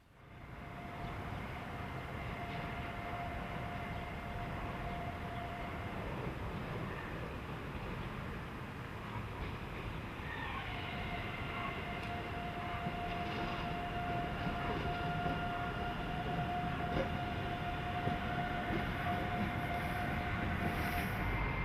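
Locomotive 145080 rolls light engine into a rail yard, a steady close rumble with sustained tonal whine that shifts pitch midway and continues without pause for the full length.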